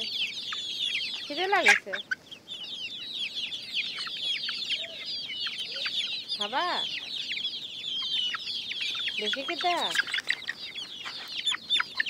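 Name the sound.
chickens clucking on a rooftop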